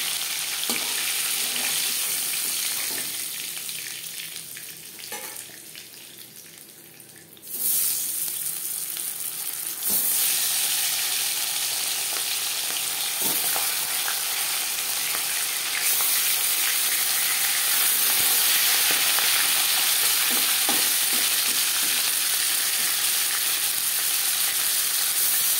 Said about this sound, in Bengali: পরে মাছ ও মাথা একইভাবে ভেজে নেব।